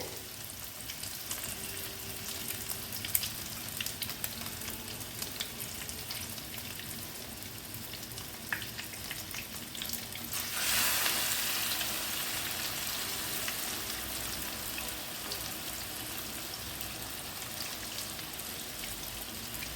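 Two chicken burger patties go into a hot pan and start frying, and a sudden bright sizzle rises partway through after a quiet stretch, then settles into a steady crackle, close and soft.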